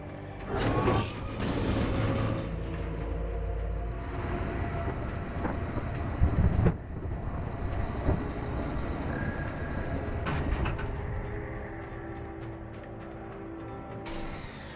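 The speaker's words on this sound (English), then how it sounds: "Heavy cargo tram is docked and ready." A heavy cargo tram in a video game rumbles and clanks, with low mechanical rolling, metallic bangs and hissing bursts that rise and fade over a steady drone.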